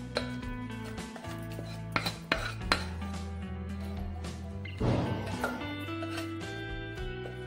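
Paneer barfi mixture is scraped from a pan into a ghee-greased metal plate, with loud clanks and scrapes of a spoon on metal, a few sharp knocks and a rattling clatter, close by and without talk.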